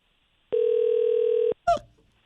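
A single sustained electronic telephone tone, steady and clear for about a second, rings unanswered at a hotel front desk, followed by a brief burst of voice.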